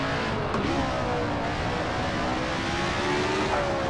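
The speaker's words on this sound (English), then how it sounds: "you can hear the clips of the engines sound authentic" A race car engine in the Assetto Corsa racing game revs hard and steadily, a loud, sustained whine with shifting pitch sweeps, close and continuous without any voices.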